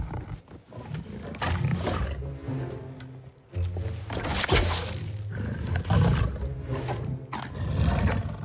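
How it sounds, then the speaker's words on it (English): A tiger in the video game Spider-Man 2 roars loudly several times in deep, rumbling bursts, with short pauses between calls and no one talking. "Beautiful tiger."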